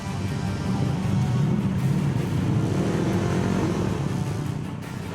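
Engines of junior 150 motorbikes before a race heat drone and rumble steadily at a distance, a broad continuous roar that swells slightly and then fades a little near the end, with no speech.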